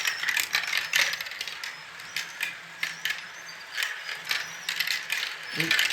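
Marbles roll and rattle through a small spiral section of a large plastic marble run, a steady stream of close, busy clicking and clattering with a brief louder clack near the end.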